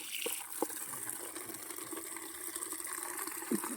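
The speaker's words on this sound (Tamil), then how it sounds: "கரும்பு காடு தண்ணி வந்துட்டு இருக்குது" Irrigation water flows steadily into a sugarcane field, a faint continuous rushing and gurgling outdoors with a few soft splashes and clicks.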